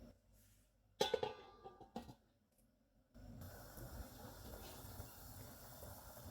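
Mutton pulao stock (yakhni) in a covered pot comes up to a boil, a soft steady bubbling hiss that rises suddenly partway through after a few brief clatters and near silence.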